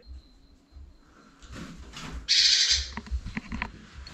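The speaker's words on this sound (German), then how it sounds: "Oh weh, hier ist ein Vogel drin." A bird trapped inside an abandoned spa clinic building gives a few scattered calls and rustles, then a sharp, louder burst, with faint knocking and movement around it in a quiet, echoing room.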